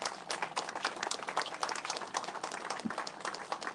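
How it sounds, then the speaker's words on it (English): An audience claps steadily for speakers at a gathering, a dense, even patter of many hands at moderate distance with no voices over it. "Give them a round of applause."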